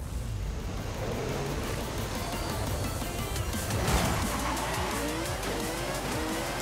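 A Mazda Miata in the racing game Forza Horizon 5 roars continuously at high revs, its engine note rising and falling as the tires squeal and skid through corners, loud and with no talk.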